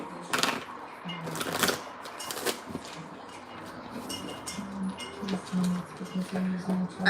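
Tarot cards are shuffled in quick riffling bursts near the start, then softer card handling and light clicks continue close by while a voice speaks faintly.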